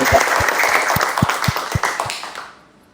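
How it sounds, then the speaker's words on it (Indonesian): A small group claps in a school podcast studio, brisk clapping with a few distinct low thumps that tapers off and stops near the end. "Tepuk tangan dulu buat kita."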